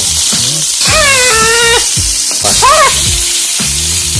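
A sandwich sizzles and fries in a pan on a gas stove: a steady, loud hiss runs throughout, with a few high tonal cries or squeaks rising over it.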